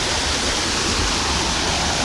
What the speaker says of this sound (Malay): Ini air terjun dia.